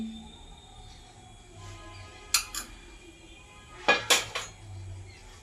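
A metal wok clinks on the stove as mustard oil goes in, giving two brief clusters of bright metallic taps over a quiet kitchen hum.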